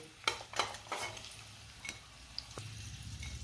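Fried jackfruit pieces lifted out of a pan with a metal spoon: a few sharp scrapes and clinks against the pan, with a soft frying sizzle underneath, close and fairly quiet.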